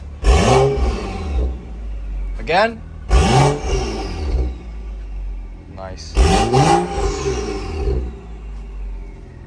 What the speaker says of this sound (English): So now we're gonna give it a couple revs.